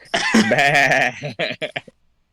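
A person imitates a goat bleating during improv, a loud, wavering nasal bleat followed by several shorter choppy bleats that trail off into silence.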